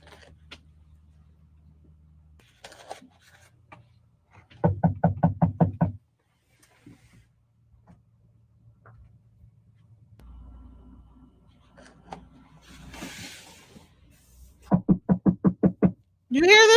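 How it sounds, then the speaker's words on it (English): Rapid bursts of knocking rap on the side of a parked van at night, loud and close, in two separate volleys with quiet stretches and faint low rumbles between them. "Somebody's knocking."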